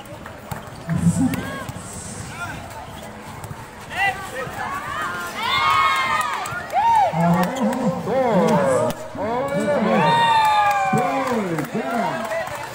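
Spectators at a volleyball championship game in Coron react with a busy wash of cheering, clapping and shouting voices, while an announcer talks over the crowd throughout.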